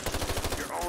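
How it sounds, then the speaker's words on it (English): Rapid full-auto gunfire from an upgraded gun in Fallout 4 rattles out as a fast, even burst of about eight close, loud shots, followed by a brief ringing tail. "We're at full auto now."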